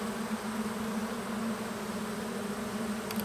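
Close, unbroken droning of many honeybees from an opened farm beehive, a thick steady buzz with no voices over it.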